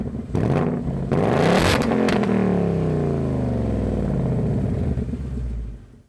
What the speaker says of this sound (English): The upgraded 5-liter V8 engine in the new Bullitt also produces its own really good soundtrack.